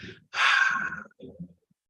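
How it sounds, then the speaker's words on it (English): A deep exhale through the mouth during a guided breathing exercise: one long, breathy rush of air, close and fairly loud, followed by a softer, shorter breath trailing off. "deep exhale through the mouth"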